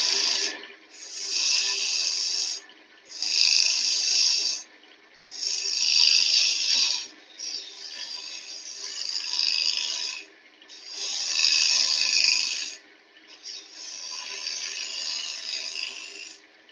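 A mini skew chisel cuts wood on a lathe in repeated rasping, hissing passes, each lasting a second or two with brief pauses between, steady and fairly close.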